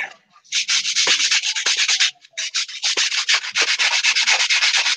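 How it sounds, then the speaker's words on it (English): Wood being sanded by hand during a workshop building session, a rapid series of rough, scratchy back-and-forth strokes, close and steady, with a brief pause near two seconds. "I guess I'll just finish sanding this."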